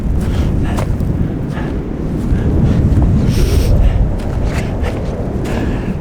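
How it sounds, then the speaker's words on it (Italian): Strong wind roars across the microphone on a mountain pass at Passo Val Cion in the Lagorai, a loud, gusting rumble that swells and buffets continuously throughout. "Vento pazzesco!"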